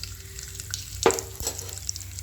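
Dried red chillies and tempering spices drop into hot oil while cooking brinjal curry, giving a quiet sizzle with a brief sharp crackle and clatter as they go in.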